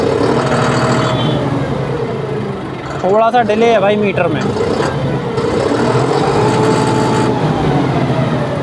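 A John Deere 5310 CRDI tractor engine runs steadily at close range with a constant diesel drone, while someone talks over it briefly.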